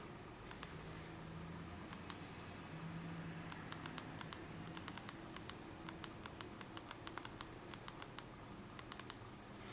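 Quick taps on the SureType keyboard of a BlackBerry Storm 2, sharp little clicks coming in irregular bursts, close but quiet over a faint hiss, with no voices.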